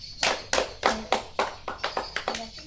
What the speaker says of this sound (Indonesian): Sekarang tepuk tangan dulu buat kelompok.